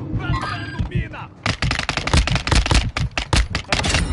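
Rapid bursts of gunfire from Call of Duty Warzone 2 crack loud and close, a dense run of sharp automatic shots following a brief stretch of quieter game sound and a voice.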